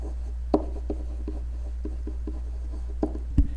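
A marker writes on a board in short strokes, with a few light taps and squeaks at intervals over a steady low hum, close and fairly quiet.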